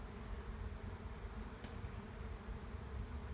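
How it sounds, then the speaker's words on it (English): A steady, dense buzz of an absconding honeybee swarm hums continuously without pause, fairly quiet and unbroken, like many bees droning together at some distance. "I can see the whole ball of bees, so to speak, moving this way."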